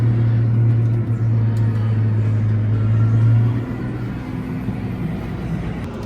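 Farm tractors and trailers roll home in convoy after the harvest, a loud steady engine drone with a strong low hum that eases off partway through, heard up close from the cab with no talking.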